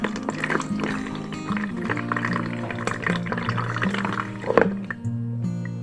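Mineral water poured over kefir grains to rinse them, a close, continuous trickling and splashing of liquid with shifting gurgles and drips, ending in a short quieter stretch.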